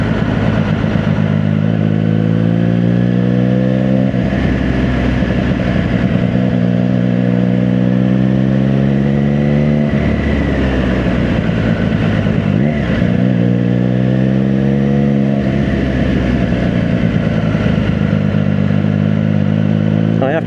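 Triumph Daytona 660 triple-cylinder motorcycle engine running steadily and loud, with rising and falling revs shown by sweeping harmonic bands, close by and continuous throughout.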